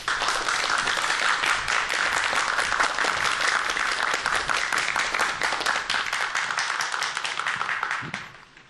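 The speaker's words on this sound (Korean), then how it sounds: "이준서 대표님 큰 박수로 맞아주시기 바랍니다" A studio audience at a Korean TV science talk show claps loudly to welcome a guest, an eco designer. The dense, steady applause runs for about eight seconds and then fades out.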